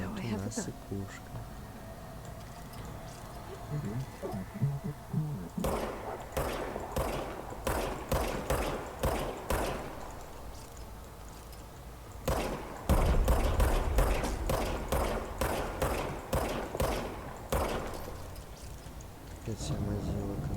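Gunshots in the video game Control, sharp evenly spaced shots coming in two long runs separated by a brief pause, loud and close, with talking underneath.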